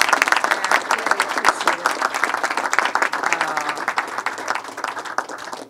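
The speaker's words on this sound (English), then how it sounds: "let's give a big round of applause for our governor, Maura Healey" An audience in Somerville applauds Massachusetts Governor Maura Healey at a public event on climatetech and life sciences, with sustained, dense clapping from a crowd that fades slightly toward the end.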